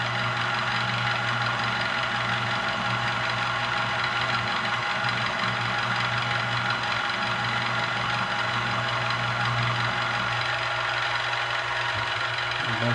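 A drill running at a little over 700 RPM on a handgun during gunsmithing work, a steady mechanical hum with constant tonal whine, unbroken and fairly close.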